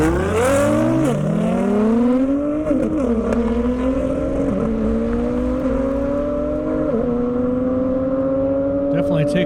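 Nissan GTR race car accelerating hard down an airstrip at a top-speed event, engine climbing through rising gears with brief shift dips, loud and close throughout, with a commentator talking over it.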